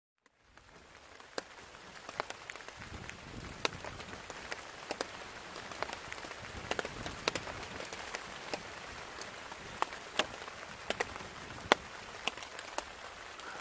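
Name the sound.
rain falling at campsite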